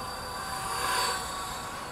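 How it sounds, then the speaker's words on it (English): A Blade 230s V2 RC helicopter flying at twilight, its steady high rotor whine and motor hum held at moderate distance, alone without voices. "I love this helicopter."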